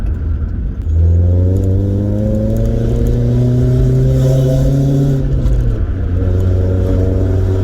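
A tuned 1.4-litre Rover K-series car engine making about 160 bhp revs up with a deep, throaty roar, holding high revs for several seconds before dropping back, loud and close.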